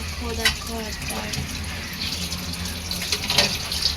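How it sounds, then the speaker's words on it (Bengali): Water runs steadily from a tap while meat is washed in a home kitchen. It is a continuous hiss and splash with a few small clatters, close and moderately loud, with faint background voices. "ওখানে মাংস ধুচ্ছে"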